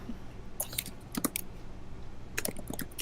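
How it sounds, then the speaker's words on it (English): Quick bursts of keyboard typing, clustered clicks in two or three short runs with pauses between, fairly close and moderately quiet, no voices. "excuse my typing here"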